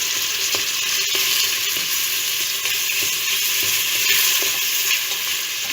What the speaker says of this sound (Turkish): Hem soğanlarımız hem de etlerimiz kavrulsun